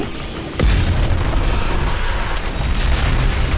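A heavy grenade explosion in the video game DOOM Eternal, one sudden loud boom followed by a sustained low rumble and blast noise.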